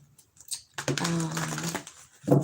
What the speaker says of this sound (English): I'm going to just keep shuffling.